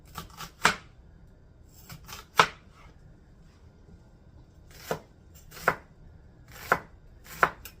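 A knife chops red onion into thin slices on a board for a cottage cheese spinach pizza: sharp, close cuts in irregular bursts of one to three, about nine hits in all, with quiet pauses and no talking.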